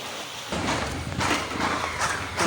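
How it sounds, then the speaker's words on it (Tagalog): Strong rushing water of a swollen mountain stream beneath a small bridge in Aklan, a steady broadband roar that swells in after a brief quieter start and stays loud and continuous throughout. "Ang lakas nga ng tubig oh."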